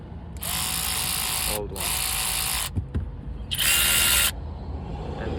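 Hyper Tough 12V brushless electric ratchet running in three close, steady whirring bursts of a few seconds each, with short pauses and clicks between them; a brief spoken remark comes in one gap.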